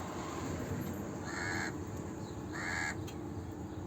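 A crow caws twice in two short harsh bursts, a second or so apart, beside a Dubai canal, over a steady background hum.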